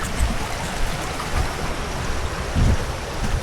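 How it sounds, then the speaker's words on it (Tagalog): River flowing past houses in Cagayan de Oro, Philippines: a steady close rush of moving water with low, uneven churning surges and no voices. "Ito mo pare, may sarili kang ilog."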